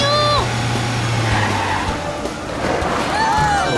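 A cartoon car skids to a stop with squealing tires and a sliding screech, close and fairly loud, ending in a brief rumble, with a low engine hum beneath and a voice briefly audible.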